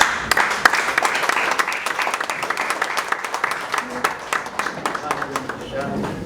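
Applause breaks out to welcome a pastor at a church gathering, dense clapping heard alongside crowd voices and talk throughout, steady and fairly close.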